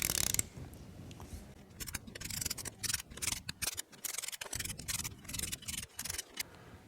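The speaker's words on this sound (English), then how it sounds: "I'm going to torque them down to 15 Newton meters" Torque wrench ratcheting cylinder head bolts on a Ski-Doo 700 snowmobile engine, giving close, quick bursts of metallic clicking in short uneven strokes with brief pauses between them.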